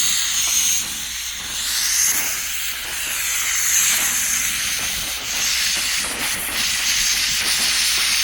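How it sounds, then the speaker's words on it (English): A VEVOR steam cleaner releasing steam onto a stain at a reduced setting, a continuous close hiss that swells and eases with rough scrubbing rubs, no talk. "you can minimize it here, so we're going to put less steam,"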